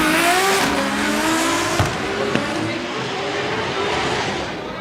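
Drift cars sliding at Formula Drift Japan's Round 6 make a continuous loud tire squeal with harmonic whine over a roaring engine, and a commentator talks over it.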